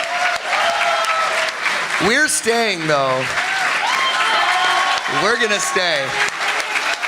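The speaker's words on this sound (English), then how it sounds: "a round of applause for Kathy Westlock" Sustained clapping from a panel audience at a convention, a dense even patter heard under people talking nearby.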